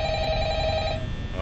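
An old telephone in the Five Nights at Freddy's video game rings, a loud steady electronic bell tone sounding over constant background hum before cutting off.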